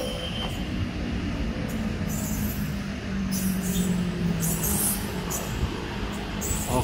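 A sleeper train's compartment suite car rolls on rails in Indonesia, giving a steady close rumble with intermittent high wheel squeals and light clatter throughout.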